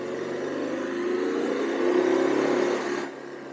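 BMW R12 café racer motorcycle engine rising in pitch as it revs between gear changes, a close whirring drone that swells, peaks and drops away abruptly near the end, with no talk.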